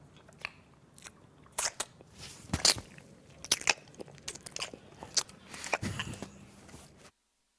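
Grown men loudly biting and chewing crunchy gingerbread cookies, close to the mic, with sharp bites and wet crunching in uneven bursts for several seconds before silence.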